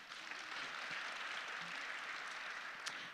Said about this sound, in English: Just give me a clap. Clap.